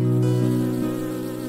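Bees buzz loudly and close up, a steady droning hum with slight pitch wavers over a short stretch, with no voices.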